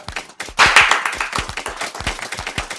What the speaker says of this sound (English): everyone clap if you use the packet